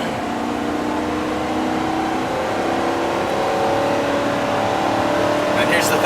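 Race cars at Charlotte's drag strip, with Top Fuel dragsters and Funny Cars power braking and launching, sounding as a loud, continuous engine roar that builds slightly and stays dense and close from start to finish, with no speech heard.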